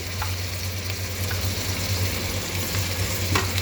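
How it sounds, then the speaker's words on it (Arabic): Garlic sautéing with coriander and cumin in a pan while making okra, a close, continuous sizzle with faint stirring clicks throughout. "تقعدي تشوحي في الثوم شويه كده مع الكزبره والكمون"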